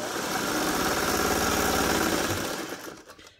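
A sewing machine stitching down a pillow, a loud rapid mechanical whir running steadily for a few seconds before slowing and stopping.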